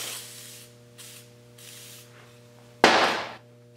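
WD-40 spray hisses from the can in several short, faint bursts and then one louder, close blast, during restoration work on a 1966 Triumph Spitfire MK2.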